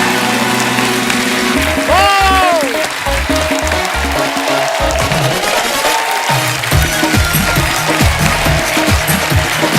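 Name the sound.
studio audience applause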